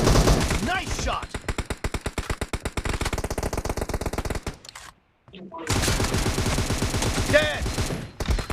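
Rapid bursts of automatic gunfire in the mobile shooter PUBG Mobile during a team deathmatch, loud and close, with a short silent gap midway before the firing resumes, and a voice speaking over it.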